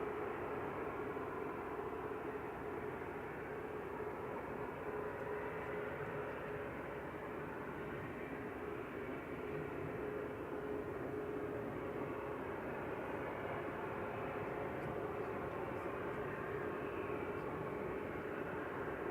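A TUI Airways plane arriving at Manchester Airport from Corfu makes a faint, distant, even roar that stays level and unbroken throughout, with no voices.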